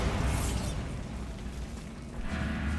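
A Bombarda explosion spell goes off in Hogwarts Legacy, a loud broadband blast with a rumbling low-end body that sustains and swells again at the end, with no voices.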